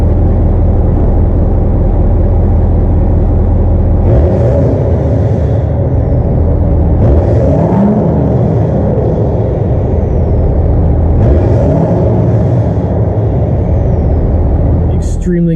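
Low, steady road rumble inside a moving 2018 Ford F-350 Lariat Ultimate pickup with a cracked windshield, with a muted engine drone and a few faint swells of wind and tire noise.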